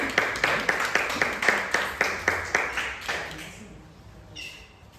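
A church congregation applauds in a steady rhythmic beat, about a dozen evenly spaced claps that fade out over several seconds and leave a quiet room with a faint voice near the end.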